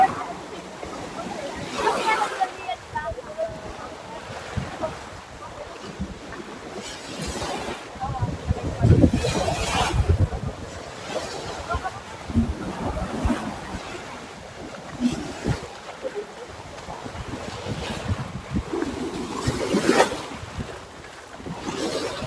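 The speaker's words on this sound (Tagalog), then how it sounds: "it makes it more difficult na magkaya kasi malakas yung alon" Strong afternoon ocean waves surging around a boat at sea, a steady roar of surf and wind buffeting the microphone, with louder wave crashes swelling at intervals while voices talk over it.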